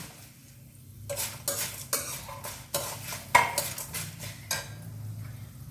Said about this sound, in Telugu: ఆవాలు వేసుకుందాం చిటపటాలు ఆడేటప్పుడు